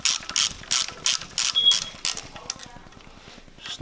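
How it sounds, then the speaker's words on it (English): Quarter-inch torque wrench ratcheting as bolts on an N54 engine crank hub are run snug, a quick run of sharp, close ratchet clicks in short bursts that fade toward the end. "So I have this quarter inch torque wrench."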